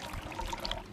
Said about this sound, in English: if I pour from the 5-quart container into the 3-quart container